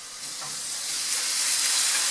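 Pork belly sears in a hot pan, a loud continuous hiss and sizzle that swells slightly toward the end, with no voices.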